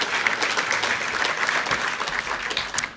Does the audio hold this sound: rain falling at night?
no